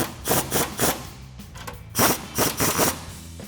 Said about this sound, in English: take a 14mm socket to tighten down your three nuts